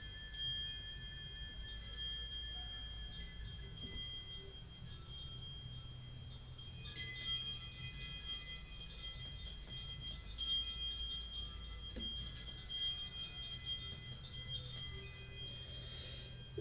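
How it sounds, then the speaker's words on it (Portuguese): Bells ring with steady, bright high chimes that swell louder about a third of the way in and continue over a low background rumble to the end. "Toquem os sinos, por favor."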